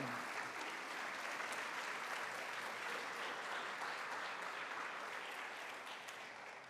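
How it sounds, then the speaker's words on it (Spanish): A church congregation applauds during a Spanish-language sermon on marriage and family, a dense, steady wash of many hands clapping at close range that holds throughout and tapers slightly at the end. "Aplauda al Señor"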